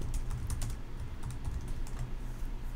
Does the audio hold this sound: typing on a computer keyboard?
yes